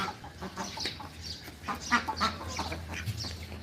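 Desi hens in a home garden chase ducks, clucking and squawking in quick, excited bursts. The calls are close and fairly loud, and they overlap steadily throughout.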